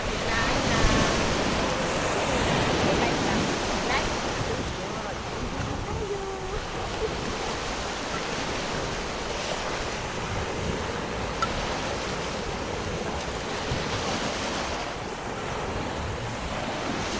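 Sea waves wash continuously against a rocky shore at Mabini, Batangas, a dense, steady roar of surf mixed with wind buffeting the microphone, with no clear breaks between waves.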